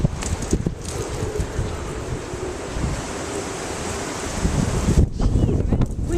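Strong wind gusts across a backyard, a loud continuous roaring rush buffeting the microphone and rustling leaves, swelling harder toward the end, with no talking over it.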